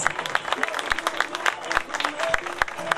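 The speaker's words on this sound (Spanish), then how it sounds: "Fuerte el aplauso para los campeones." An audience at an education and work showcase applauds prize winners with lively, uneven clapping. Chatter and voices mix in among the hands.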